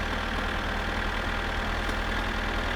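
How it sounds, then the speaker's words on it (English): Tractor engine in the video game My Summer Car, a steady low idling drone with an even mechanical rumble, loud and continuous with no voices over it. "Can't hear me over the tractor? Is the tractor that loud?"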